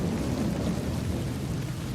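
Steady rain falling at night, a dense even hiss with low rumbling undertone, constant and close throughout with no voices.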